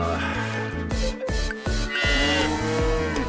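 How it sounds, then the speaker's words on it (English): A tiny baby cow mooing in Story of Seasons: Friends of Mineral Town, several short, close, bright moos layered over cheerful game music. "Tiny baby cow."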